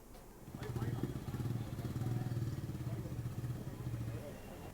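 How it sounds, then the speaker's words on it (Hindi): A fire brigade water mist motorcycle idles nearby in Moradabad, its engine a steady low putter that swells and stays fairly loud, with a voice speaking over it. "आज एक मोटर बाइक वाटर मिस्ट हमें प्राप्त हुई है"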